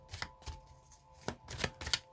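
Tarot cards are shuffled and pulled by hand up close, giving soft, quick riffling flicks and snaps in short irregular bursts.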